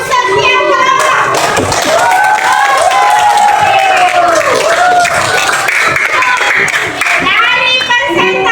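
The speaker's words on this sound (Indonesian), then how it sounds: "Tepuk tangan untuk setiap kelompok." Classroom applause for presenting student groups: continuous loud clapping mixed with a lively crowd of children's voices and cheers, close and sustained throughout.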